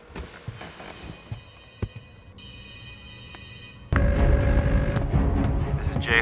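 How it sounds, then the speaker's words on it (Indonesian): A telephone rings in a quiet room with no one speaking, its bright, steady tone running on and off before a louder, fuller stretch of sound takes over near the end. "I heard a phone ring"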